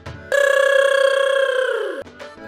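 A phone rings out on an outgoing call, a single steady tonal ring lasting about two seconds, close and clear with no voices over it.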